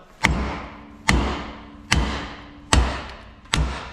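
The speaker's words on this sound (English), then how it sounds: "I can't hit it out with a normal hammer, so I've got a sledgehammer" A sledgehammer strikes the rear independent suspension arm of a classic VW Beetle 1302/1303 during removal, five heavy metallic thuds at a steady, unhurried pace, each ringing briefly before the next blow.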